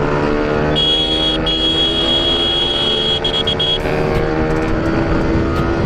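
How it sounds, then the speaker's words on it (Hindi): Bajaj Pulsar RS 200 motorcycle exhaust revving loudly up close, a sustained buzzing engine roar with steady harmonic tones that rise and shift slightly, and no voices. "देखते हैं एग्जॉस्ट के साथ क्या रिएक्शन रहता है"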